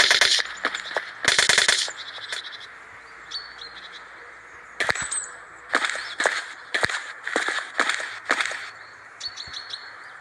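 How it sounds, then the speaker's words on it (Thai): Bursts of rapid gunfire in the tactical shooter game Project Breach 2 crack out repeatedly, some sustained and some short, mixed with high chirping tones, loud and close with no talking. "เสียงปืนเนี่ยแหละดังมาก"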